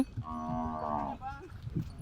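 A cow from a village herd lets out one clear, drawn-out moo of about a second, followed by a shorter, softer lowing call over quiet outdoor background noise.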